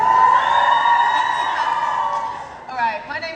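An audience at a live Q&A at Pryzm in Kingston cheers and whoops loudly as one sustained wall of voices, tapering off near the end as a few shouts trail away.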